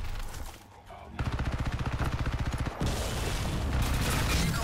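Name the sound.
gunfire in the video game Crysis 3 multiplayer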